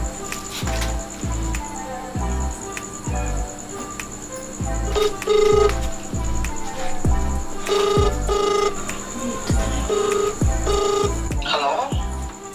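A phone ringtone plays repeatedly over a loudspeaker, a rhythmic electronic melody with steady beat-like pulses, moderately loud.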